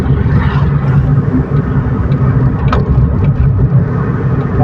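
A Kia Picanto, Hyundai Accent or Kia Rio engine drones steadily from inside the car after an upshift into third gear, a continuous low hum with faint road noise and no talking over it.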